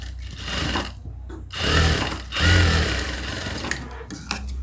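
A sewing machine stitches a Western-style top in loud, steady runs of needle clatter, broken by short pauses between seams.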